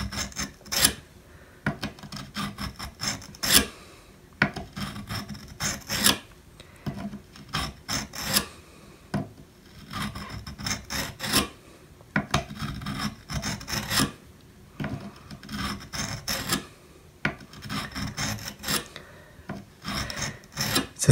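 A garden pruner blade is sharpened on a fine-grain stone in steady, repeated rasping strokes, each pass a close scraping rub with brief pauses between and no voices.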